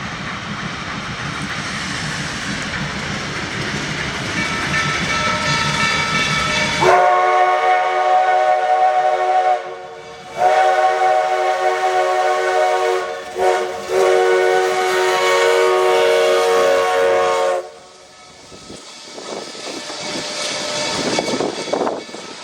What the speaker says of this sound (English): before the train gets into Keystone and drops off all its passengers.